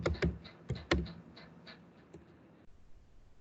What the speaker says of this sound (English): I'm typing another name